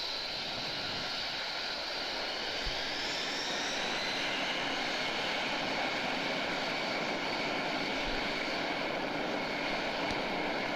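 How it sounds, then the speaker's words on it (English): A noisy propeller aircraft at East Midlands airport drones steadily and loudly throughout, a continuous broadband engine roar with no pauses or voices. "I'm sure I can hear a very noisy prop aircraft at East Mids at the moment"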